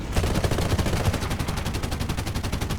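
Aircraft gunners on a P.108A in War Thunder fire machine guns in rapid, sustained bursts, a dense rattling stream of shots with a slight stutter, loud and close.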